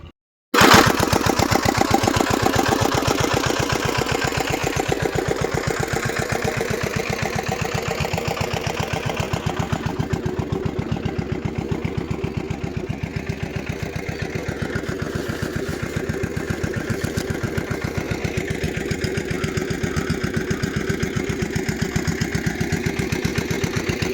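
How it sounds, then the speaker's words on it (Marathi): A farm engine starts with an abrupt kick and then runs on steadily for the whole stretch, a loud, even mid-pitched putter with no talk over it. "शेवटी इंजिन चालू करायला मला यावंच लागतं"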